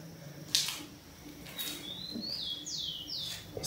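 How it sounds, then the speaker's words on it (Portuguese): Small bird chirping in a derelict, overgrown old village house, a quick series of rising-falling tweets repeating three or four times, fairly faint over low outdoor background noise. "Passarinho ali."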